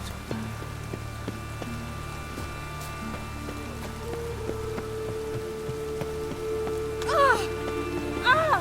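Rain falls steadily in The Witcher 3, a soft constant patter under sustained melodic music tones, with brief warbling bird-like calls near the end.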